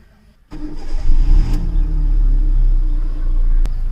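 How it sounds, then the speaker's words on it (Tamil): A car engine cranks and catches after a moment of quiet, then settles into a steady low idle rumble, close up, with no talking. "அதுக்கு அடுத்தது நீங்கள் வண்டியை ஸ்டார்ட் பண்ணிக்கலாம்."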